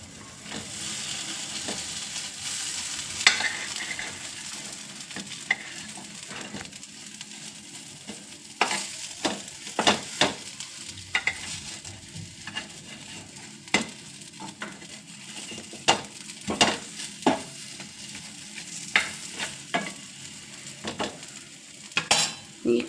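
Raw banana slices frying on a tawa, a steady close sizzle punctuated by repeated sharp taps and scrapes as pieces are turned with a spatula.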